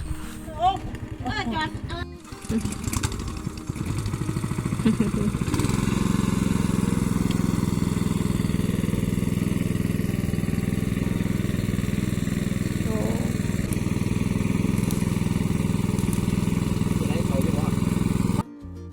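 An engine-driven pump drains water from a pond in a rice field to catch fish. After a rough start, its motor settles into a loud, steady mid-pitched drone that runs close and continuous, with some voices near the beginning.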